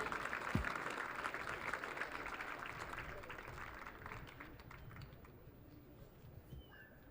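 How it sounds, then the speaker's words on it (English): A crowd applauds the Tusculum Pioneers senior class at an outdoor baseball championship awards presentation, the dense clapping gradually fading to scattered claps, heard from a distance with faint chatter underneath. "one more round of applause for the senior class from the Tusculum Pioneers"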